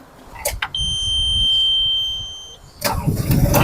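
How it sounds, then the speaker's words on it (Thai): A Yanmar ViO23 mini excavator, a 2.3-ton machine, starts up: a steady electronic warning tone sounds during cranking, then the diesel engine catches with a loud rough burst and settles into a close, rumbling idle, with brief talk early on. "อ่าตอนนี้เครื่องทำงานแล้วนะฮะ"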